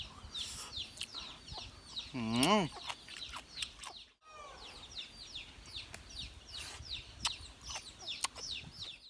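Chickens cluck and squawk around a backyard chicken coop, with repeated close clucks, a louder drawn-out call near the start and scattered chirps throughout; a person briefly murmurs.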